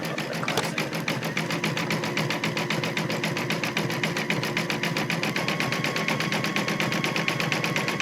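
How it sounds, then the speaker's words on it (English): An embroidery machine stitches a mug rug design in the hoop, working through a satin stitch ring, with a fast, steady needle rattle that repeats evenly and stays loud and close throughout, with no talking. "this whole design, from beginning to end, takes about 22 minutes to stitch"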